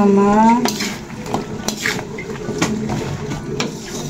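A utensil scrapes and clanks against a cooking pot as pinakbet vegetables are stirred, with irregular metallic taps and a faint sizzle, close and fairly loud.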